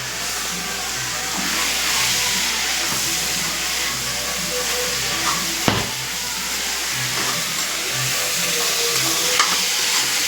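Tomato tipped into a pan of frying bitter gourd sets off a loud, continuous sizzle and hiss, with a couple of sharp clanks from stirring partway through.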